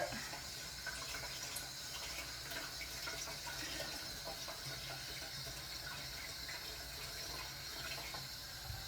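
Hot water runs steadily from a gas-heated kitchen tap in a steady, continuous rush with no talking.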